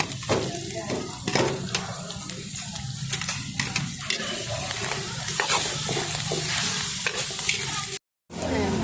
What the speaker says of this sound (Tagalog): ilalagay na natin yung kamatis. Gigisahin natin ulit.